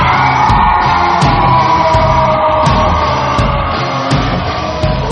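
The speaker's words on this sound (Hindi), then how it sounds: "एक जोर की अजीब सी आवाज वाली चीख उसके गले से निकली" A man lets out a loud, strange scream in a horror story scene: a dense, sustained shriek holding steady for several seconds, close and forceful, with no talking over it.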